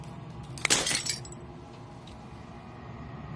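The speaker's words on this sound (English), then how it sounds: "As the final fragment of glass shatters" Glass shatters once in the video game Slay the Princess, a sharp crash with a brief tinkling spray of fragments, then quiet ambience.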